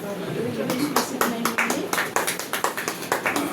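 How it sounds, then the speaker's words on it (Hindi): A congregation at a Hindi Christian worship service claps in a steady, rhythmic beat, each clap sharp and close, with a voice running underneath. "तालियां बजाना है, तालियों में कोई कमी नहीं करना है।"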